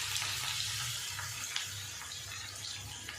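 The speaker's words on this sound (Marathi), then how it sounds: "आता हा पहिल्यांदा तेलामध्ये परतून घ्यायचा" Freshly ground masala paste for a Maharashtrian thecha rice dish sizzles in hot oil in a pan, a steady, close, crackling hiss that runs without a break and without speech.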